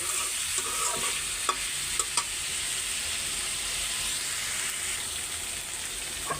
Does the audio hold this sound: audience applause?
no